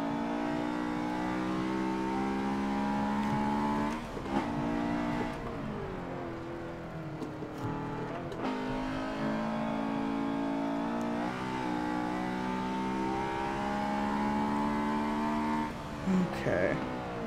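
Race car engine in Forza 7 revving hard through upshifts and downshifts as it overtakes, a steady loud whine with rising harmonic sweeps and a brief dip mid-pass, heard alone and close.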